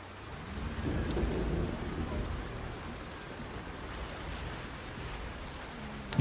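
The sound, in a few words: rain in the video game Scrap Mechanic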